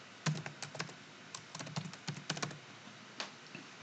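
Someone types on a computer keyboard, making quick clusters of light clicks with brief gaps between them, close and quiet, with no voices.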